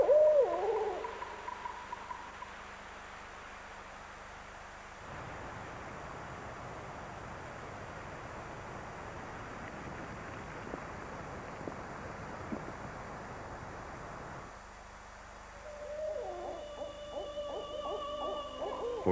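A barred owl hoots in the northwestern boreal forest, a few clear calls at the start and again near the end, with quiet wind-filled air in between.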